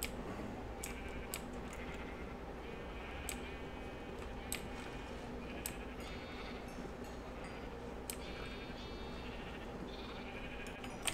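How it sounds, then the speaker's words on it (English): Sheep in the Minecraft video game bleat repeatedly in short, evenly spaced calls over a steady low background hum, with no talking. "Sheep."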